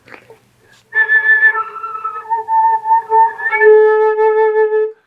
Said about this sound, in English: Keep the same embouchure as a low whistle tone, add air, and I've got real tone.